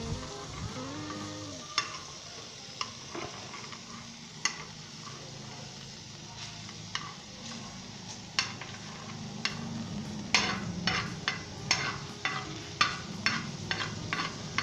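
Chopped garlic cooks in butter in a pan, a soft, steady sizzle broken by irregular clinks and scrapes of stirring, close and quiet.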